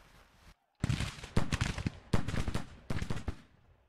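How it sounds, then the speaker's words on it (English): Rifle volleys in a Civil War strategy game, Colonel William H.L. Wallace's troops firing Hall rifles: a sharp opening shot, a brief silence, then three loud, close bursts of overlapping gunfire. "Colonel William H.L. Wallace with his Hall rifles about to open up."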